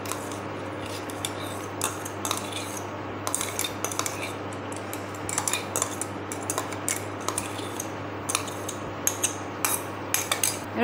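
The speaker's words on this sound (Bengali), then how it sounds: "এটা ভালো করে মিশিয়ে দেবো।" Rice is stirred into boiling milk for Bengali phirni, a spoon scraping and clinking against the pot in quick irregular strokes over a steady low hum from the stove.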